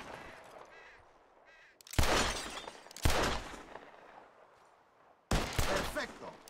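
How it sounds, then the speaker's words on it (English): Revolver gunshots shatter bottles during a shooting contest in Red Dead Redemption 2. Three loud, sharp blasts come a second or more apart, each with a crash and a ringing tail, after quieter background sounds. "Whoever shoots more of these bottles wins."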